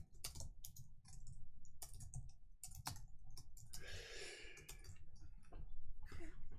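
Typing on a computer keyboard during a coding session, with irregular bursts of close, crisp key clicks, brief pauses and a rustly breath in the middle, no speech.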